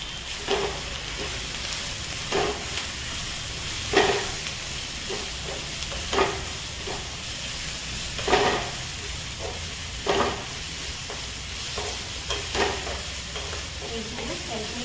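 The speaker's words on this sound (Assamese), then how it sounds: "মই এতিয়া এইখিনি গাজৰখিনি এতিয়া ঘিখিনিত ভাজিম।" Grated carrots frying in hot ghee with cardamom pods for carrot halwa give a steady, close sizzle, broken by regular scrapes and knocks of stirring every couple of seconds.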